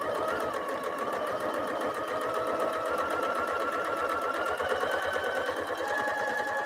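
A sewing machine stitches half square triangle quilt pieces in a steady, fast needle rhythm, close and continuous throughout with a constant motor hum beneath.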